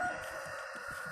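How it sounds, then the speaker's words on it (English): A backyard chicken gives a few soft, low clucks in a short burst, faint against steady outdoor background noise with no talk. "This chicken over here behind me is watching me."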